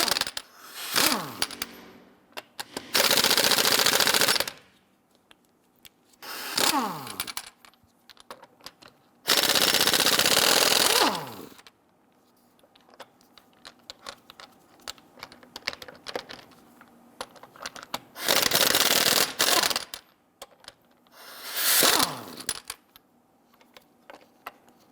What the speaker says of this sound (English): Using a 22mm socket,